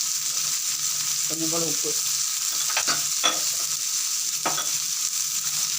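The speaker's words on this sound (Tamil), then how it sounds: "ரெண்டு வெங்காயம், ஒரு தக்காளி. இதை நல்லா வதங்கட்டும்." Two onions and a tomato sauté in a hot pan, a steady close sizzle broken by several scraping stirs of the spatula, with a brief spoken remark partway through.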